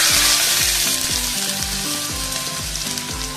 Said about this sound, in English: And now we have to fry these onions till they are nice golden brown in color.